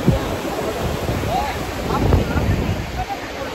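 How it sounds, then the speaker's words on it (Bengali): Sea waves breaking on Mandarmani beach, a continuous nearby surf wash with wind buffeting the microphone. "মানে সমুদ্রের আওয়াজে যেন আলাদা একটা নিস্তব্ধতা আছে"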